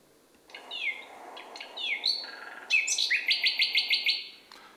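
A second recorded nightingale strophe: a few separate whistled and sliding notes, then a fast, evenly repeated series of sharp chirps, loud and clear with nothing else audible.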